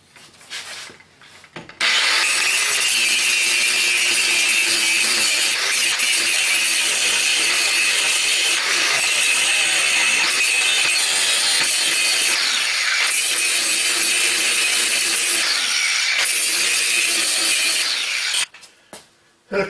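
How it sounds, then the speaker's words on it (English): A 4-inch angle grinder cuts through the stabilizer bar on a 2001 Buick Century, a loud continuous high grinding whine that starts abruptly, holds with slight wavering for about sixteen seconds, then cuts off. "this 4-inch grinder with this on it I would think it's going to do a pretty good job"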